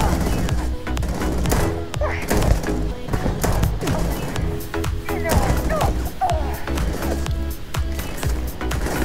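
An Old Earth Pistol fires in the Starfield sci-fi shooter, with single shots popping at an irregular pace amid clattering game noise and the thuds of a firefight.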